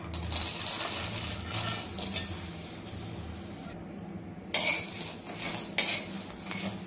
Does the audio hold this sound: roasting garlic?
yes